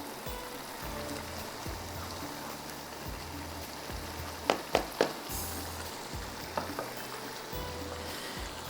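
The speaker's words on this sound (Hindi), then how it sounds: "वेजिटेबल हमारी फ्राई हो रही हैं" Potatoes, carrots and peas fry in a pan, making a soft, steady sizzle with a few sharp clinks partway through and no talking.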